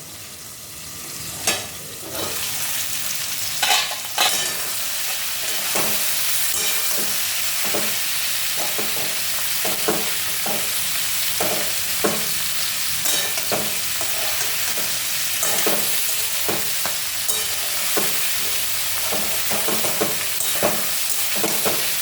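Vegetables fry in a pan with a continuous close sizzle while a spatula stirs them, scraping and knocking against the pan in irregular repeated strokes over a steady hiss.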